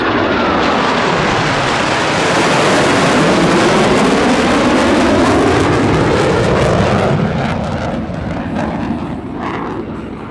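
U.S. Navy Blue Angels jet aircraft roaring past at an air show, a loud, continuous, broadband jet rush that swells, holds, then gradually fades as the aircraft pulls away.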